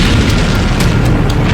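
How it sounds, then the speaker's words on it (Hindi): A tank blows up after a drone strike in the Russia-Ukraine war, producing a loud, heavy boom with a rumbling roar that sustains throughout. "इसके बाद यह टैंक चलता रहा और फिर ऐसा धमाका।"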